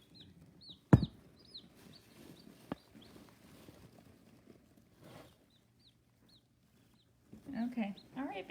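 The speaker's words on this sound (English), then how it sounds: "So let's take a look at our baby chicks." Newly hatched baby chicks under a brooder give scattered, high, thin peeps, fairly faint, interrupted by a sharp knock, a couple of bumps and louder rustling handling noise near the end.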